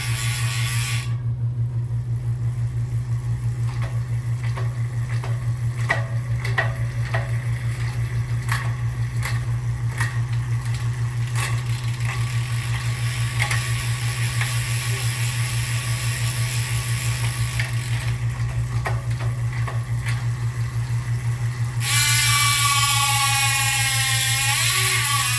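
Gears on a titanium-equipped bicycle shift with a run of crisp, close clicks over a steady mechanical hum, then the drivetrain spins up into a louder whirring freewheel at the end.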